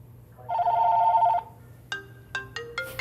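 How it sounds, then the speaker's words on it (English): A telephone ringing: one sustained electronic warbling ring near the start, followed by several sharper chiming tones in quick succession, clear and close over a quiet background hum. "It's the sound of frustration for so many of you. A ringing phone"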